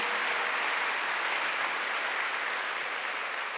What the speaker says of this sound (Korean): 박수랑 하세요.